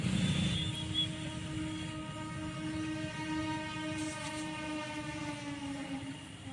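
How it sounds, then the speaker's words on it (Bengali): The Patna–Howrah Vande Bharat express passes with a steady rail rumble and a long sustained horn-like tone carried throughout, moderately loud and continuous. "দেখতে পাচ্ছেন বন্দে ভারত পাস হচ্ছে পাটনা হাওড়া বন্দে ভারত"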